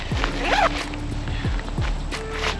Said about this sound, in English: on either side here, you've got these zippers